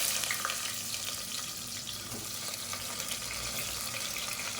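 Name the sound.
sliced onions frying in hot oil and ghee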